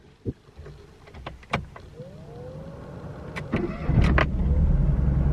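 A Fiat Cinquecento 700 fitted with a Fiat 126p carburetor is cranked and fires up after a few clicks and knocks, then settles into a low, steady running drone close by, with no voices.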